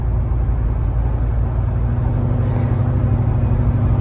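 A 1967 Chevrolet Chevelle with a 396 engine idles, giving a loud, steady low rumble that holds even and smooth the whole time, with no voices over it.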